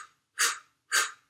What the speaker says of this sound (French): On va continuer en travaillant la respiration saccadée.